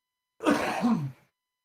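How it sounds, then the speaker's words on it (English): A single hoarse cough or throat-clearing burst, close and alone, lasting under a second before silence. "I'm going to cough."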